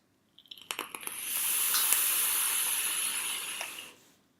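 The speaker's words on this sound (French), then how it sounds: "60-40, la vapeur est bien présente." Vapor drawn through a Pop Deez pod vape at a 60-40 liquid, opening with a few quick crackles and clicks before a close, steady hiss that lasts about three seconds and fades out.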